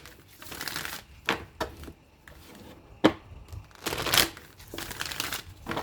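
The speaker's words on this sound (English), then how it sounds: "let me get just a few more shuffles" A deck of tarot cards is shuffled by hand in several quick, papery bursts of riffling and flicking, with brief quiet gaps between them.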